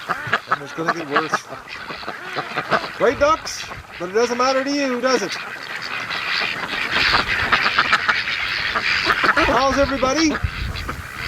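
Pet ducks quack in several harmonic bursts, some close and loud, out in nasty fall weather, while a person talks over and between the calls.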